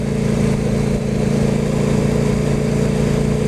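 A roughly ten-year-old KTM RC8 motorcycle engine runs steadily during a test ride, a loud, continuous mid-pitched drone with no clear revving changes.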